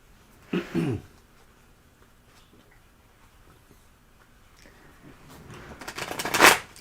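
A short riffle of tarot cards early on, a stretch of quiet handling, then a longer, louder shuffle building to a crisp flurry at the end.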